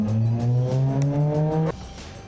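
A Toyota AE86 or Mazda MX-5 1.5 on a timed lap holds a steady rising engine drone, loud and close, that cuts off sharply near the end, with no voices.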